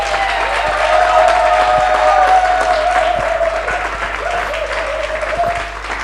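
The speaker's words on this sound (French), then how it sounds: "Je vais demander qu'on applaudisse très fort pour une artiste" A crowd at a gospel music show applauds loudly for an artist. Dense, sustained clapping fills the room, with a sung or sustained tone running through it and the applause easing slightly toward the end.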